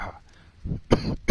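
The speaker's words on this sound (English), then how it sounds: "you can no longer hide from people because you cough" An infected character in the Ark video game coughs, with a soft opening sound followed by two or three sharp, close coughs in a brief burst.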